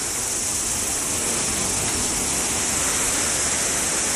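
Surf washing onto New Chums Beach sends up a steady, dense roar of breaking waves, loud and unbroken throughout with no pauses or voices.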